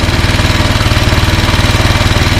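Royal Enfield Himalayan motorcycle engine idling after carburetor tuning, a loud, close, steady rapid thumping pulse with no voices over it.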